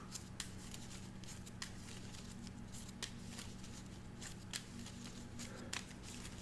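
A deck of Marvel Champions cards is shuffled at a tabletop game session, giving a steady papery riffle and rustle with several sharper snaps spread across the clip and no talking.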